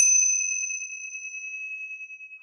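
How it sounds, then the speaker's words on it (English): A set of Tibetan bells struck once gives a bright attack and a long, pure two-note ring that sustains with a gentle wavering pulse and slowly fades, heard alone. "This is just one set of Tibetan bells."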